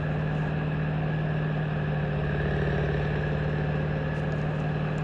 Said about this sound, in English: the grinder can grab parts of the bale or the whole bale, put it in, and it chews it up and then puts it out the conveyor